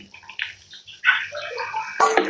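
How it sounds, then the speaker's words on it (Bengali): Water is poured into frying garlic and ginger paste for a stalk curry. Brief, quiet bursts of splashing hiss come in two spurts in a near, otherwise calm kitchen. "মশলাটা একটু ভাজা ভাজা হয়ে গেছে আমি একটু পানি দিয়ে দিলাম"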